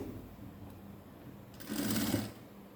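A sewing machine stitches layered patti cloth pieces in one short, close burst of rapid stitching. The burst stands out against quiet handling noise before and after it.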